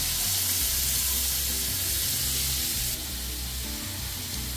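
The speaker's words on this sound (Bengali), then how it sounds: "আস্তে আস্তে আমি ফ্রাই প্যানের মধ্যে সব একটা একটা করে এইভাবে চিকেনগুলোকে ভেজে নেব।" Marinated chicken pieces frying in a frying pan for butter chicken produce a loud, dense, steady sizzle that drops slightly in level partway through.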